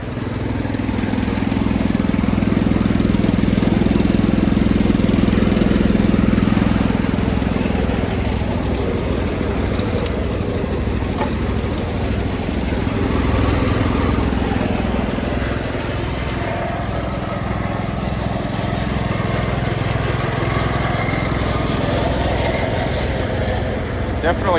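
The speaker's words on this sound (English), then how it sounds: "Definitely tell it's much louder than the John Deere." Wheel Horse garden tractor from a barn find, its engine running loudly and steadily nearby with a rough mid-pitched idle that swells and eases slightly over time.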